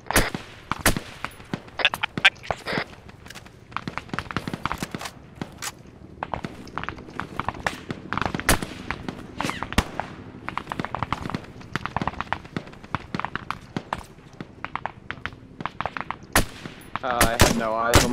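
Arma 3 military simulation firefight: repeated bursts of automatic gunfire and single shots cracking at varying distances over about eighteen seconds, dense and irregular, with footsteps and shuffling between volleys.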